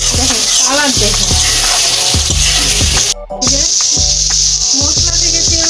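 Spices frying in hot oil for a duck meat curry, a steady loud sizzle and hiss with rhythmic scraping and clanking as the mixture is stirred, briefly dropping out for a moment near the middle.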